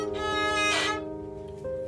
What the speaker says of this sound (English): Say a beginning musician starting on steel, it would sound something like this before they knew how to use their bow.